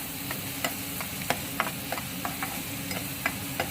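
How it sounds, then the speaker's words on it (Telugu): Onions frying in oil with a little salt, a steady low sizzle beneath regular spoon scrapes and taps against the pan, moderately quiet and close, with no voices. "ఉల్లిపాయ అంతా ఫ్రై అయ్యే వరకు వెయిట్ చేద్దాం"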